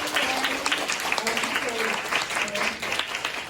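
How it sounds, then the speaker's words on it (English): A classroom of girls claps to welcome a guest at a bilingual music demonstration class, a dense steady patter that is fairly close, with voices talking over it. "Girls, please clap your hands to welcome our special guest."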